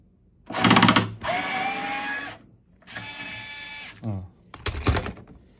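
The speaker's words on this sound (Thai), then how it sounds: "เจาะเลยดอกสว่านเบอร์12ครับแทงลงไปให้สุด" A power drill with a size 12 bit bores into an acoustic guitar body to fit a MEEGOO GA-2 pickup, running in two sustained whirring bursts between short thuds and handling noises.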